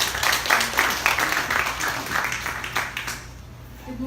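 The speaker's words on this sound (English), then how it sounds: "Let us give her a warm round of applause" Audience applause at a CD IELTS launch event, a dense crowd clapping steadily and moderately loud for a few seconds before thinning out near the end.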